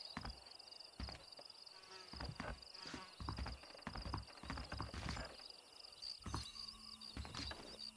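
Horse hooves clip-clop in the Red Dead Redemption video game, irregular thudding steps from several horses nearby, with game ambience and a faint tonal hum underneath.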